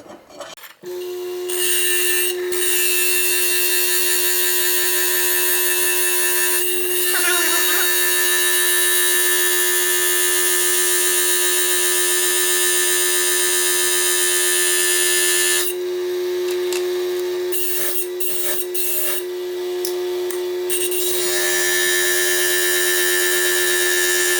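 A Foredom bench lathe and core drill, run by foot pedal, grind a stone into a sphere. A loud, steady, high-pitched motor whine continues for most of the stretch, dipping briefly several times as the tool slows or shifts.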